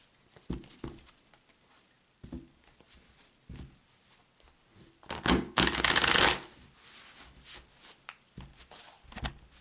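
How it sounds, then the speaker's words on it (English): Tarot cards shuffled by hand in a quiet room, with soft riffling bursts and taps early on, then a longer, louder riffle in the middle before the patter resumes, all close to the microphone. "So I'm going to do a couple more shuffles"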